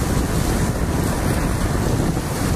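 A boat crosses Taal Lake toward the volcano crater, heard as loud, steady wind buffeting the microphone with rushing water and waves all the way through.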